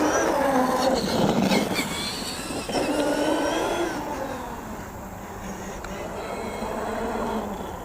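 An RC truck drives outdoors with a steady, whirring motor and rolling wheels, its pitch rising and falling as it moves, while a voice talks faintly at times.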